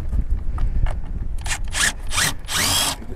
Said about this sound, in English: Thank goodness for power tools.